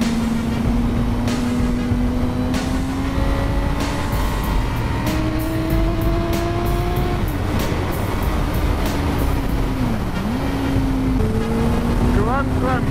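A 2018 Suzuki motorcycle on a race track, its engine revving hard through rising and falling gear pitches, bouncing off the rev limiter, loud and continuous close by with some talk over it.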